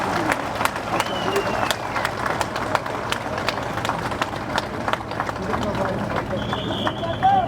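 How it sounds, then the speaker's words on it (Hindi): A crowd claps and cheers to welcome Nitin Gadkari at a rally in Chenani, loud scattered applause under a speaker's amplified voice, with occasional whistles. "जोरदार तालियों के साथ स्वागत करेंगे गडकरी जी का"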